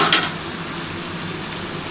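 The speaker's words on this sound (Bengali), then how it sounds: "এবার আমি এর মধ্যে কিন্তু পেঁয়াজ আর কাঁচা লঙ্কাটা দিয়ে দিচ্ছি।" Sliced onion and green chili hit a pan of frying bitter gourd and potato, giving a brief loud sizzle burst at the start that settles into a steady close crackling fry.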